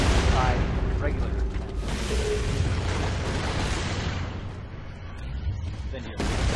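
Mortar and artillery blasts in the video game Gears of War 2, heavy booming explosions rolling over a dense battle din, with a voice speaking over the chaos.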